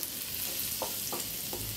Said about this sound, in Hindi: लहसुन को मैं हल्का पका कर ले लूंगी